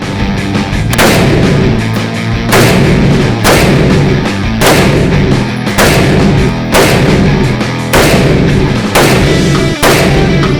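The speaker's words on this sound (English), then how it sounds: "Hey, you're pretty good with that semi-automatic AK." Repeated gunfire from a semi-automatic AK rifle at a 10-yard range, loud close shots fired in steady succession roughly every second, with reverberant booms and no talking.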